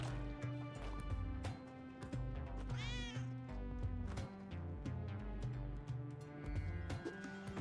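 A cat meows in the video game Spelunky 2, a brief rising call heard once over steady, busy game music.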